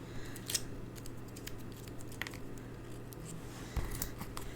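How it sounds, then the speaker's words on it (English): Titanium scissors snip paper in a few quiet, sharp cuts amid soft rustling and faint handling noises. "I've got these titanium scissors, and they don't tend to stick to glue"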